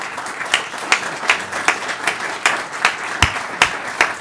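Applause for board members at a regular school board meeting: scattered, rhythmic clapping from a modest group, fairly close, with a few sharper individual claps standing out and no talk.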